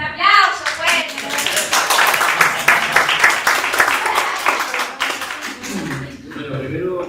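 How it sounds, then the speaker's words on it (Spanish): A conference audience claps loudly and continuously, a dense spread of handclaps holding steady for several seconds before tapering, with voices mixed in beneath the applause. "Un aplauso, fuerte."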